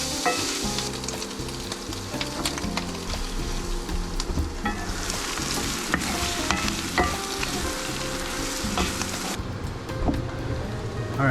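Food sizzles and fries steadily in an electric skillet powered through an inverter, a dense continuous crackle with occasional stirring clinks, fairly close and loud, with no talk.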